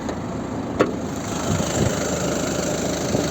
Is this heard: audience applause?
no